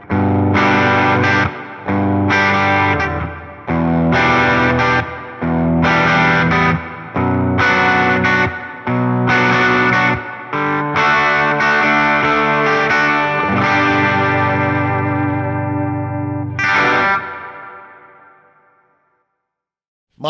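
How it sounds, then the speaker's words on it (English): Electric guitar played through a Fender Tone Master Pro using a modulated small hall reverb, loud rhythmic strummed chords in repeated bursts, then a sustained chord and a final hit that ring out and fade in a lush, shimmering tail. "Modulated small hall reverb."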